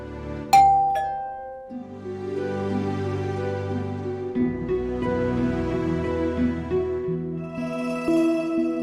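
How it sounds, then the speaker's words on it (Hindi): A house doorbell chimes once with a bright ding-dong near the start, followed by sustained ringing tones that carry on over a steady bed of background music. "अभी कभी भी हमारे घर की घंटी बज सकती है।"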